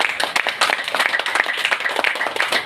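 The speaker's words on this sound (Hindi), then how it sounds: "उनके लिए भी एक बार ज़ोरदार तालियां।" Audience applause at a business motivational event: dense, energetic clapping from many hands, loud and continuous throughout, with no speech.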